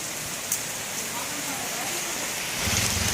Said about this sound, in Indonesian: Ini area kampung satu hujan deras.